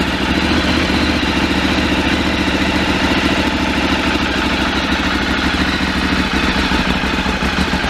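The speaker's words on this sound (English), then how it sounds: "There you go, that's what a standard 848 Evo sounds like." A cold, standard Ducati 848 Evo motorcycle engine idling steadily and loudly up close, with a rapid, even, rumbling beat and mechanical clatter.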